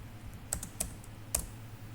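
A computer keyboard in an office setting, several soft clicky keystrokes close by, ending with a sharper press of the Enter key, quiet and with no talking.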